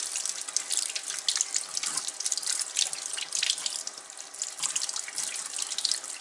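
Potatoes being washed and scrubbed with their skins on under a running tap, a steady close splashing rush of water into a sink with no pauses, for homemade fries.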